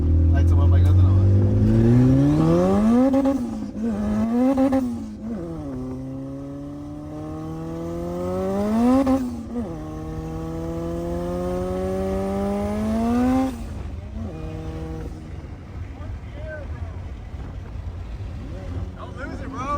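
A 500 hp turbocharged Honda B18 VTEC car with a Precision 6262 turbo accelerates hard through the gears: loud, close engine revs climb steeply, drop at each of several shifts, then fade to a rumble.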